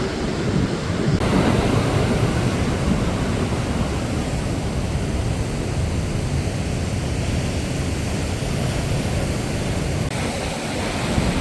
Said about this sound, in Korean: 와, 파도 봐라.